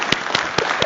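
Brief applause from a panel discussion audience, a few distinct claps standing out over a soft background of scattered clapping, moderately loud and close.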